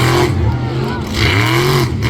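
A monster truck engine roars and revs steadily on a dirt speedway, loud and close, with pitch swells as the throttle rises and falls while a commentator talks over it.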